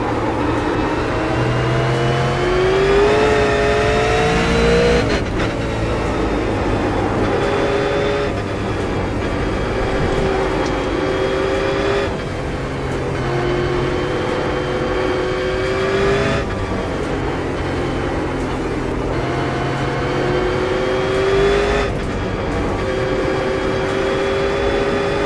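A V8 race car roars around a lap in a racing video game, engine note climbing through the gears with repeated shift drops and steady loud revving, heard close and without voices.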